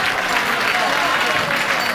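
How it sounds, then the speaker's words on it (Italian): An audience applauds to welcome a singer on stage, a brief, continuous wash of clapping with crowd murmur, close and fairly loud. "accogliamo un attimo un applauso per lei"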